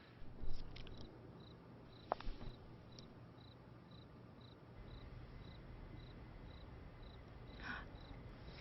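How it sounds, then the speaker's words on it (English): Quiet outdoor ambience with a steady, faint insect chirping pulsing in a regular rhythm throughout, plus a few soft scattered clicks. "you actually can hear the sound of crickets chirping"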